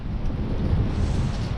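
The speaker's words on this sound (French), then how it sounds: "Là il s'est levé le vent." Gusty south wind rising at a parking area in Sunbilla, buffeting the microphone with a steady low rumble that swells and eases without a break, close and fairly loud, with no voices.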